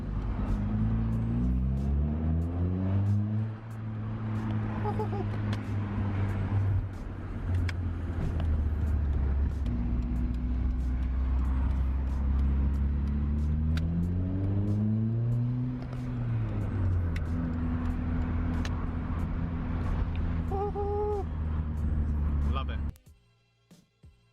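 Ford Fiesta Zetec S engine pulling hard in second gear down a road, revs rising and falling in steady sweeps as it accelerates, loud and close from inside the car, then cutting off abruptly near the end.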